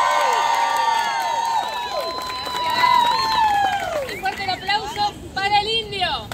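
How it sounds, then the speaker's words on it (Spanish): A crowd at a street tango show in a San Telmo plaza shouts and whistles loudly, with rising and falling whistles and voices layered over steady cheering and scattered clapping. "Esto sería grito, chiflido y aplauso."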